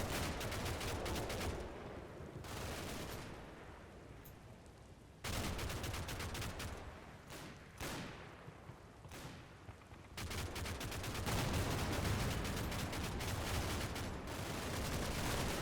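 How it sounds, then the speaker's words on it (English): Artillery and gunfire in the Normandy wargame Combat Mission: Battle for Normandy. Dense volleys of shots and blasts come in waves with brief lulls between them, distant and fairly faint, with no talking. "Some serious artillery coming down range from the Germans"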